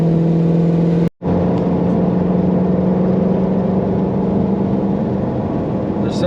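A Ford Mustang GT350R engine drones steadily while the car takes a corner, a loud, even in-car hum with a brief dropout near the start and no talk over it.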